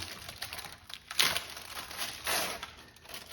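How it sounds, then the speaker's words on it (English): Wax paper being torn and crinkled while breaking up homemade Christmas candy, soft crisp rustles and two short louder rips, quiet and close with no talking. "Well, I ripped the wax paper there."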